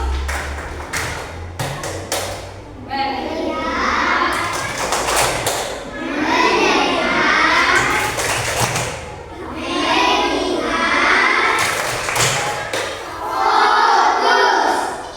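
Schoolchildren in a classroom chant a focus clapping routine together: sharp claps and table taps punctuate loud, rhythmic group chanting in several bursts.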